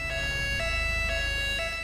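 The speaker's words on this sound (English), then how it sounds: "that's the ambulance. Okay, that's the ambulance trying to get through." An ambulance siren in GTA V sounds in London traffic, a loud, steady repeating two-tone wail cycling about every half second over low engine and road noise.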